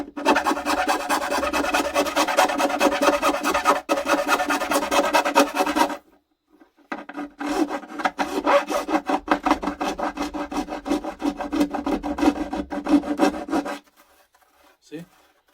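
Hand sanding wood with sandpaper: loud, steady raspy back-and-forth strokes run for about six seconds, stop briefly, then resume in a faster rhythmic burst before fading out.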